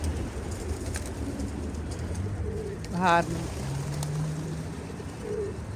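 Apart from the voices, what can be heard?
pigeon cooing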